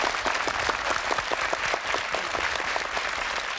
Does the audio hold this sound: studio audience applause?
yes